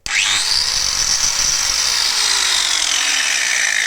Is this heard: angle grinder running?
yes